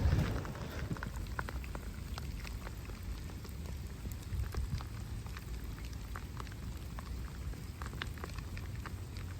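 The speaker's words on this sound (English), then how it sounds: "The rain's still peeing through here" Steady rain pattering through woodland with bracken and overflowing ponds nearby, a dense continuous patter of drops on leaves and ground, close and even throughout with no talk.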